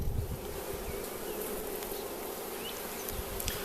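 Honey bees hum continuously around an open hive during a first inspection, with bees bearding at the entrance; a dense, steady buzz sits close by, with individual bees droning past now and then.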